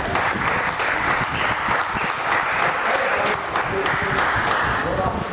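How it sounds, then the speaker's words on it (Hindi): Steady, dense audience applause in an Indian classical music concert hall, honoring a sarangi player, loud and continuous throughout with a crowd murmur beneath and no clear talk. "इतनी जोरदार तालियां हो जाए"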